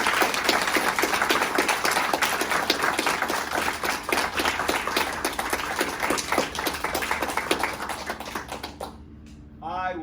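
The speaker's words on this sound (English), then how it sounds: "Let's have a round of applause for everyone." Round of applause from the crowd at a kung fu black belt promotion ceremony, dense steady clapping that carries on for about nine seconds and then thins out and stops, after which a voice begins to speak.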